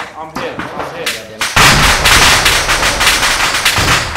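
Rapid bursts of machine gun fire ring out loud and close, a dense rattling barrage that starts abruptly and carries on without pause, with voices speaking in the moments before it.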